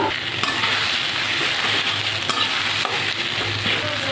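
Egg stirred and fried together with bottle gourd in a pan produces a loud, continuous sizzle, with steady spatula scraping and stirring close by.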